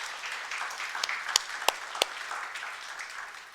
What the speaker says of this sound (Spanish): dale un aplauso porque ese es nuestro Dios